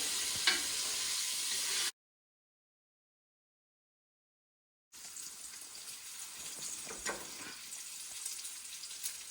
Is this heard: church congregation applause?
no